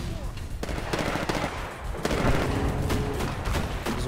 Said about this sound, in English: There's rounds going off everywhere down there